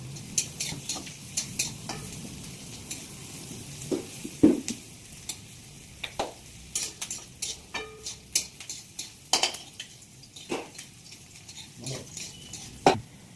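Onions and cumin fry in a pan over a quiet background sizzle, while a utensil scrapes and taps the pan in sharp, irregular strokes throughout.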